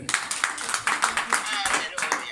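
A church congregation claps rhythmically in worship, with steady, evenly spaced claps from a crowd and voices rising alongside them throughout.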